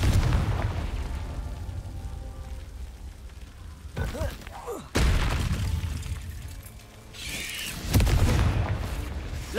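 Confringo fire spell blasts in Hogwarts Legacy, several sharp booming bursts with rumbling tails spaced a few seconds apart, mixed with game effects and a voice calling out.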